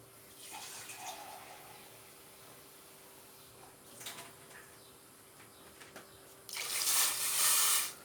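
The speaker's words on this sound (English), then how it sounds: "all you want to do is cover them up with water" Water pours into a pot of plums in a short splash near the end, after a stretch of quiet with faint background chirping.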